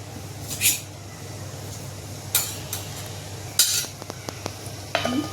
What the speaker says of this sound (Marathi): इथे मी थोडं आता जिरं घालते तेलामध्ये